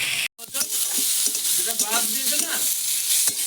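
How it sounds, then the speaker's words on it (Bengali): Potato, eggplant and tomato frying in a pan give a continuous hissing sizzle, with the clatter of a spatula stirring and scraping at intervals throughout. "বেগুন, টমেটো ভাজা ভাজা হয়ে গেছে।"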